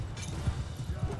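Horse hooves in the video game Mount & Blade II Bannerlord: quick, muffled clip-clop thuds in a steady galloping rhythm, low and fairly faint, under a voice talking.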